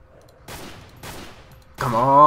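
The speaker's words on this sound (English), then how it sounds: "Someone is already shooting at me." Gunfire in S.T.A.L.K.E.R. Call of Pripyat Misery Mod: two sharp shots half a second apart, each decaying with a gritty tail, followed by a louder sustained burst with harmonic ringing as the firing intensifies.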